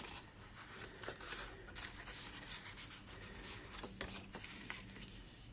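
Folded card stock is burnished along its scored lines at the 4 1/2, 6 and 7 1/2 inch marks, giving a steady close rubbing and scraping with a few sharper strokes near the end, no voices.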